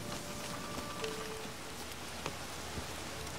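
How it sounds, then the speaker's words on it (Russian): Steady rainfall in the video game The Witcher 3: Wild Hunt patters evenly across surfaces, a continuous hiss with scattered drop taps and no voices. "Дождливый денек. Дождливая серия."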